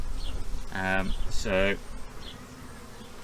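Bees buzzing at a weak hive with few bees, about a month after a swarm; a couple of brief, close buzzy bursts over faint background hum, with a voice speaking briefly.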